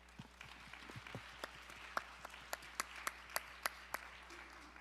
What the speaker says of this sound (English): if we can just give him a round of applause